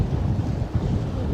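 Wind rushing past a sailboat on the open sea, a steady low blustery roar buffeting the microphone with no voices.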